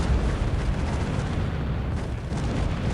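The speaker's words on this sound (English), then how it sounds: "so many heavy cannons there" Heavy cannons firing during a 2v2 tournament battle in the strategy game Earth 2150, heard as a dense, continuous rumble of overlapping booms and blasts with no talking.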